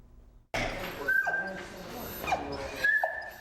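Rescued purebred and designer-breed puppy mill dogs, found stuffed in a van at a motel, whimper and cry close by in high, wavering whines and yips over a voice talking.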